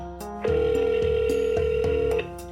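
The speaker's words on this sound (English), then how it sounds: "Just an endless dial tone. It was mostly dial tone." A steady telephone dial tone sounds close and loud for about two seconds, a continuous flat hum with brief tones before and after.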